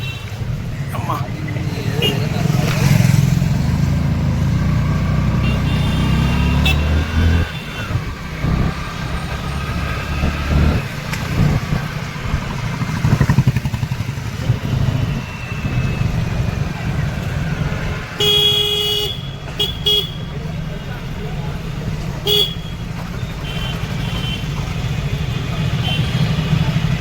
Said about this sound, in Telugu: హైదరాబాద్ అంటేనే ట్రాఫిక్.